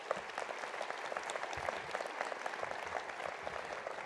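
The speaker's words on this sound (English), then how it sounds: "And how about another round of applause?" An audience at a university winter commencement applauds, steady dense clapping from many hands continuing evenly throughout, heard at moderate distance with no voices over it.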